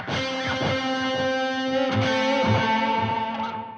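An electric guitar plays sustained notes through delay and reverb effect pedals, each one echoing in repeats and washing out into a lush, lingering reverb tail.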